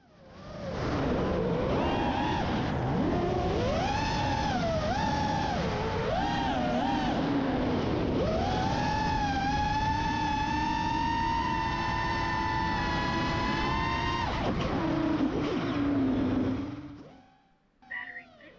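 Close, steady whine of a 7-inch FPV freestyle drone on its maiden flight over a wide open space, the motor pitch rising and falling with throttle before cutting out abruptly near the end.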